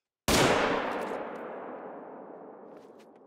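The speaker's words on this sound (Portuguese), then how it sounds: "Eu atirei no veado vermelho com o rifle .300." A single loud .300 rifle shot fired at a red deer in the hunting game The Hunter: Call of the Wild, a sharp crack that rolls into a long echoing decay over about three seconds.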